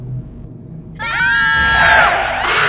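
Family screaming at the top of their lungs inside a car, an audio drama effect: several voices burst into loud, sustained, overlapping shrieks after a quiet start.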